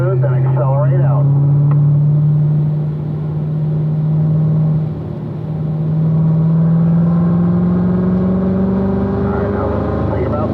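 A car on a race track at Spring Mountain drives out of a corner, its loud, close engine droning steadily, easing briefly, then rising in pitch as it accelerates.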